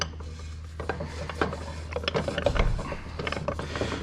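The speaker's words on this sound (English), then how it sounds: "Slowly rotate the snorkel tube clockwise while counting the number of notches passing through the opening." A snorkel tube in a Polaris RZR 1000 transmission is turned by hand through its notches, giving close, irregular ratcheting clicks and metallic rubbing over a low steady hum.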